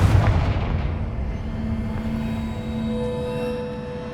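Confringo spell explosion in the Hogwarts Legacy video game, a deep booming blast at the start that fades into a long rumbling tail with a sustained low tonal hum.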